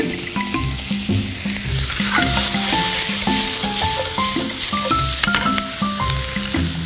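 Bacon and onion fry in a pan, adding more oil as the bacon renders, giving a steady close sizzle and crackle that runs throughout, while clinks and taps from stirring come and go over it.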